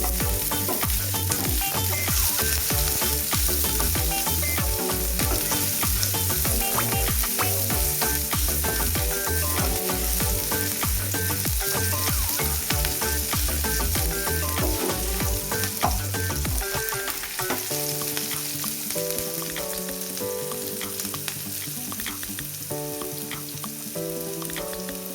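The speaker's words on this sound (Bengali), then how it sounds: "একই তেলে কিছুটা পরিমাণ পাঁচফোড়ন দিয়ে দিলাম, সঙ্গে দিয়ে দিলাম আদা কুচি আর কুচি করে রাখা কাঁচা লঙ্কা দিয়ে ভালো করে নাড়াচাড়া করে নিচ্ছি।" Panch phoron, chopped ginger and green chili fry in hot oil while being stirred, a loud continuous sizzle with frequent spatula scrapes and clatter, and steady tonal music underneath throughout.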